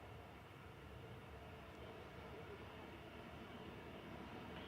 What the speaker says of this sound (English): Heading off to Antalya, Boeing 737-800 TC-SPS, flight 593.